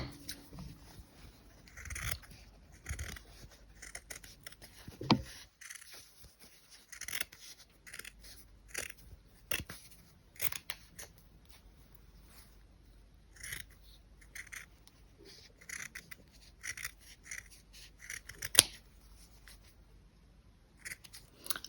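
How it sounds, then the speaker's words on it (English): Scissors roughly snip around a piece of felt for a handmade brooch flower, giving a run of close, crisp cuts in irregular bursts with short pauses, one louder snap near the end, and no talking. "And just roughly cut around this one."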